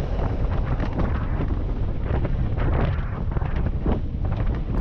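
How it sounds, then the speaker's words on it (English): Loud, steady wind roar buffets the microphone while riding an ICE VTX recumbent trike at 40 mph, a continuous rushing blast with no voices. "hear what that sounds like to hit 40 miles an hour on a recumbent trike"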